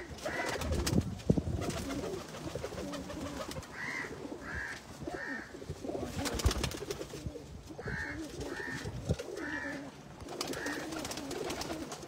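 Breeder pigeons at a home loft cooing in repeated soft, throaty phrases, several rounds spaced through the stretch, fairly close and steady over a low background murmur.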